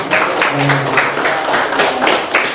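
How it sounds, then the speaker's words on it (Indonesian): A classroom audience claps during a teaching-practice lesson. The applause is close and fairly loud, a dense steady patter with a brief murmur of voices underneath. "Tepuk tangan dulu untuk Bapak."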